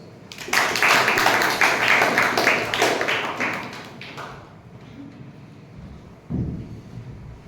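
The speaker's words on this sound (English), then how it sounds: "A big round of applause." A Toastmasters club audience applauds, a dense burst of clapping that swells at once, holds for a few seconds, then thins and fades, with a short flurry of claps near the end.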